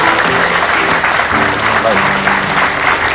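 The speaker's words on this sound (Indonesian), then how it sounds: "Oke, kan tepuk tangan dulu loh buat Mbak." Studio audience applause on a television talk show, loud, steady clapping from a crowd filling the whole stretch, with a man's brief spoken word and some background voices mixed in.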